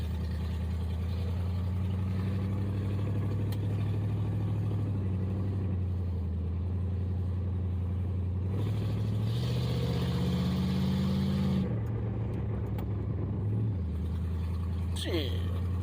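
A 1963 Plymouth Belvedere wagon's engine runs with a deep, steady rumble that rises and falls as it is driven and revved, heard from inside the car.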